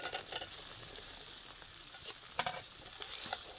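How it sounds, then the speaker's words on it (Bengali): Dried jujube berries go into sugar that is mostly melted in a pan over low heat for a sweet kul pickle, giving a soft, steady sizzle with scattered scraping and tapping from stirring. No voices are heard. "ঠিক এই পর্যায়ে কিন্তু শুকনো করে রাখা কুলগুলোকে দিয়ে দেব।"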